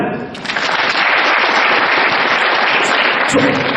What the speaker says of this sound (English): Here, let's clap for them.